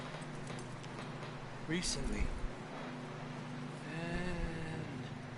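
Horse hooves clop along in the video game Red Dead Redemption 2, a soft rhythmic gait beneath game music and a louder voice that breaks in midway.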